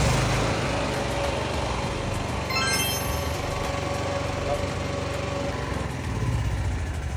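A PhilKing PK8000i inverter generator running on LPG starts up and settles into a steady, buzzing engine drone after a brief rising whine from the manual start, running continuously and fairly close.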